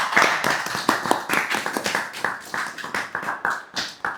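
A group of recruits at a trial run claps together, loud, close, slightly ragged bursts of hand claps in a quick irregular rhythm with no talking.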